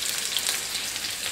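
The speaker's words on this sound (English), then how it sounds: "Oh, you can hear that sizzle already." Chopped spring onion sizzles in hot vegetable oil in a wok, a steady close crackling hiss with no talk over it.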